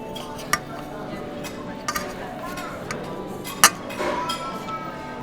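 Cutlery clinks lightly on a plate while a sausage is cut at a café breakfast table, giving a few sparse, sharp taps over a steady restaurant murmur with voices in the background.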